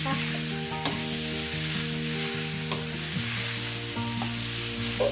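Minced pork for northern Thai larb dry-roasting in a pan, giving a steady close sizzle with stirring scrapes throughout and music playing underneath.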